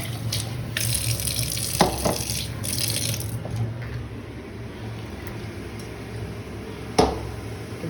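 A tap runs in a kitchen while spices cook, a steady close stream of water with a couple of sharp clinks, no voices.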